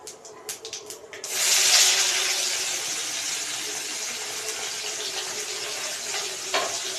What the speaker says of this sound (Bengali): পেঁয়াজটা নেড়ে ছেড়ে নেবো, তো লাল লাল করে ভেজে নেব